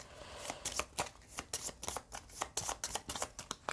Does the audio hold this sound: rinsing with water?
no